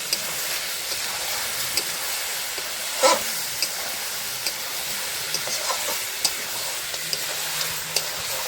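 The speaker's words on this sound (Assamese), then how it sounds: "মই এতিয়া লাৰি দিম।" Chicken frying in oil is stirred in a pan, with a steady loud sizzle throughout and a few scraping strokes of the spoon, one more prominent near the middle, with no talking.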